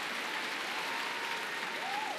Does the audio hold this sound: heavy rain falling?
no